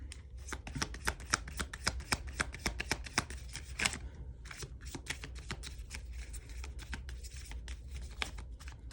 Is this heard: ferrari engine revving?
no